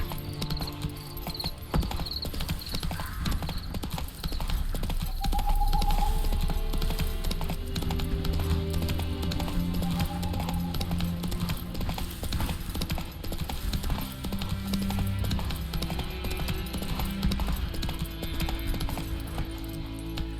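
Horse hooves clip-clop at a steady gallop in The Witcher 3 video game, with a brief whinny, crickets chirping in the background, and a voice urging the horse on.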